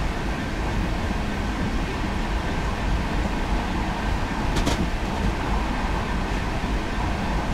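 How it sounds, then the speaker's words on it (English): A passenger train rushes past a Class 66 locomotive in Train Simulator 2017, a dense, steady roar of rolling wheels and rail noise with a brief sharp clatter midway, loud and close throughout. "another train flying past us"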